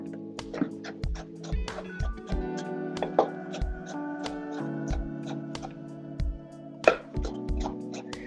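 Knife chopping vegetables on a cutting board during a brown rice salad preparation, a string of close, sharp thuds in short uneven runs over a low musical background.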